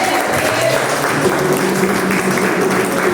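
A church congregation at a Baptist conference in Bom Jesus da Lapa applauds steadily in a sustained, even wash of many hands, with a few faint voices underneath.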